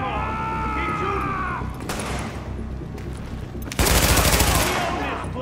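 Rapid automatic gunfire crackles in Tom Clancy's The Division, with dense, loud bursts over a droning game soundscape, the heaviest volley coming near the end.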